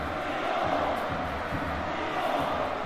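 Packed stadium crowd in an anime soccer match, a thick, continuous roar of many voices at high volume, steady and slightly swelling throughout with no single voice standing out.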